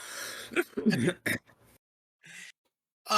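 A short throat clearing with a few gruff bursts, close and fairly quiet, followed by brief mumbled voice sounds.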